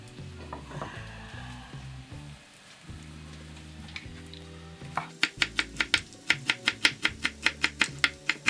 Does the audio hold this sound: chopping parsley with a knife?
yes